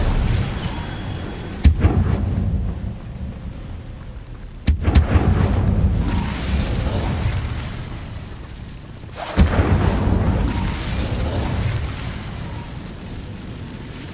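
The Incendio fire spell goes off in Hogwarts Legacy, and three heavy booming bursts land several seconds apart, each followed by a rumbling roar of flame that fades under a steady ambient bed.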